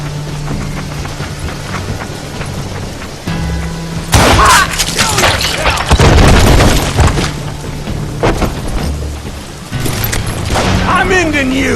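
Gunfire in the Western shooter Call of Juarez Gunslinger: heavy booming shots and crackling bursts erupt midway, loud and close, mixed with shattering impacts while voices shout over the fight.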